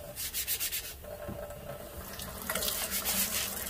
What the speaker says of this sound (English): So you just kind of hold it up there and let the water come out a little bit.